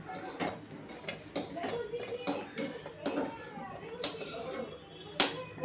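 Metal utensil scraping and clinking against a pan while roasted coconut is taken out for an egg curry, a series of short sharp clatters spaced irregularly, close and moderately loud, with no talk.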